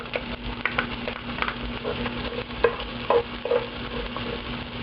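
Garlic and onions sauté in hot cooking oil, a continuous crackling sizzle with scattered pops and stirring scrapes, close and moderately loud, with no talk and a low steady hum underneath.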